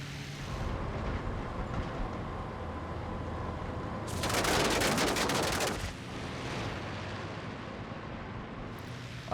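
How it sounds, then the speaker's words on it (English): A rapid burst of machine-gun fire from a Junkers Ju 87 Stuka in the video game IL-2 Great Battles rattles for about two seconds over a constant droning aircraft engine, loud and close. "We've just got the machine guns"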